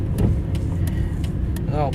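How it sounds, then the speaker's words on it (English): Busy road traffic near a roundabout, a steady close rumble of car engines and tyres with a few brief passing whooshes, and a voice speaking over the continuous noise. "Look at all those fucking cars."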